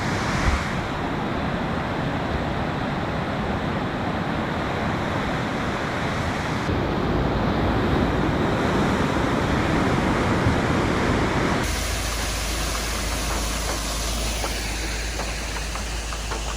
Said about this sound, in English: That water is just a-flowing.